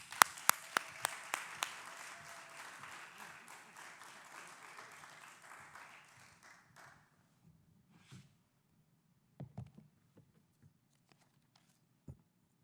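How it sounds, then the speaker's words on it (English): Audience applause at a school district back-to-school event, a burst of clapping that starts strong with sharp claps and gradually thins out, leaving scattered claps and faint sounds. "give another round of applause to Akbar."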